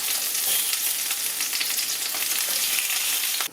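Sausages, bacon and egg frying in a pan give a dense, loud, crackling sizzle close up, steady throughout with faint stirring clicks, cutting off abruptly at the end; no voices.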